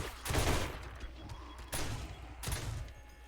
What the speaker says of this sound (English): Got the turrets going to get them.